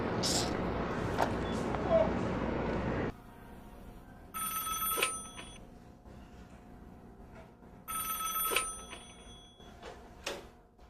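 An old-style telephone bell rings in two loud bursts a few seconds apart, following a stretch of noisy room sound and speech, with quiet gaps between rings.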